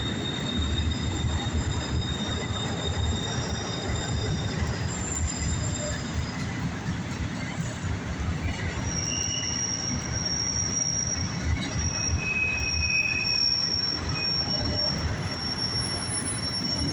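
A Providence and Worcester Railroad train passes in wet weather, wheels squealing in sustained high tones over a continuous rolling rumble and clatter, fairly steady throughout with no talk.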